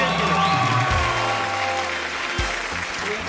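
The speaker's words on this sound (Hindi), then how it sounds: "तालियां बजाओ एक दफा" Studio audience applause on a Pakistani game show, a dense continuous wash of clapping under a steady music bed with low tones and brief swells, moderately loud and sustained throughout.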